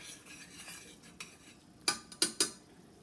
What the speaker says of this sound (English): Get all that stirred up.